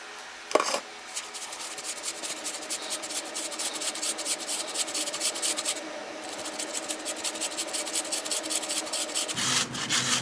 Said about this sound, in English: Get your normal box grater with the normal big side on it, that's what I use, and just grate it down.